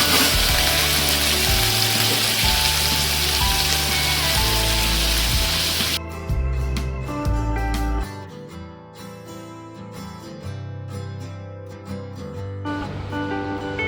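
Chopped onion hits a frying pan of garlic fried until reddish and sizzles loudly and steadily, a continuous crackling hiss that settles to a quieter frying sizzle with faint background music.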